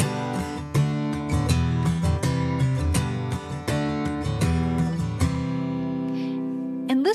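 Close acoustic guitar strumming, the chords changing quickly on every beat in a steady pulse before the last chord rings out.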